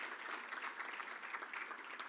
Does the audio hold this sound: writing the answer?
no